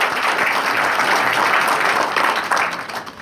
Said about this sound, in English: A big round of applause for their efforts,